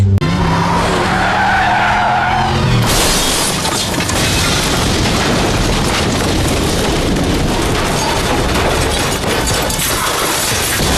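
A car skids hard before an accident, a long, loud tire screech and scraping roar that swells after a brief engine note at the start and continues grinding on.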